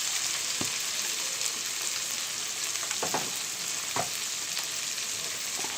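Eggs seasoned with salt and chili powder fry in a pan for egg biryani, giving a constant close sizzle with scattered pops and light stirring clicks, no voices.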